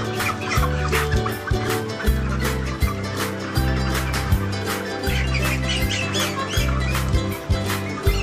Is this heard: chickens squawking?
yes